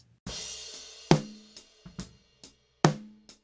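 A snare drum runs through a compressor with all its ratio buttons pushed in at once: heavy, loud cracks with a long, squashed sustain and pumping tail, mixed with softer ghost hits in an uneven pattern. No one speaks.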